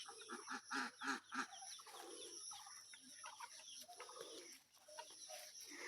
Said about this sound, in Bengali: ওই যে হাঁস মুরগি এখান দিয়ে খেলাধুলা করতেছে